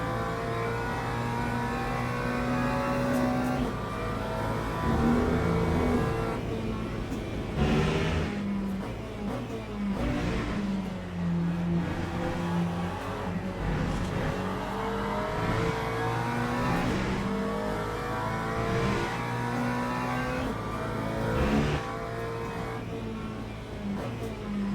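Race car engine sound from a Porsche in a Le Mans racing game, a continuous loud mid-pitched roar with rising and falling revs across gear changes, steady and close throughout with no talk.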